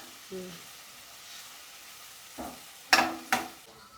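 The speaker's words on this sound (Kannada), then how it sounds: "ಫ್ರೈ ಮಾಡ್ಕೊತಾ ಇದ್ದೀವಿ ಈರುಳ್ಳಿ ಚೆನ್ನಾಗಿ ಬೇಯಬೇಕಮ್ಮ" Onions fry in hot oil in a pan with a soft, low sizzle, followed near the end by a few sharp stirring scrapes and clacks of a spoon.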